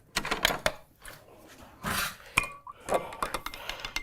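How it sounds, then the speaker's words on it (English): Big spoon stirring tamarind concentrate into a drink in a pitcher, with bright clinks of metal against the vessel and swishing of liquid, coming in a few irregular close bursts over four seconds. "I'm just gonna stir that up. Let me get a nice big spoon to stir that up with."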